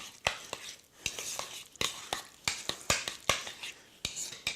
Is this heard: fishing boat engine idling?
no